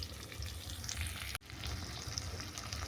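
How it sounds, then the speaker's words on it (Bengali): Potato and pointed gourd pieces sauté in hot spiced oil, a continuous close sizzle and fry with a brief dropout midway, steady and alone without talk. "আলু পটলটাকে দিয়ে আরও কিছুক্ষণ আমি কষে নেব"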